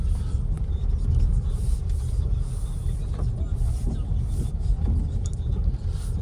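A 2024 Audi Q2 drives along a wet, muddy road on unsuitable tyres, its steady low engine and road rumble continuous and close throughout.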